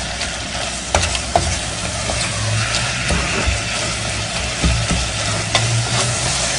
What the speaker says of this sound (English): Let that brown a little more there.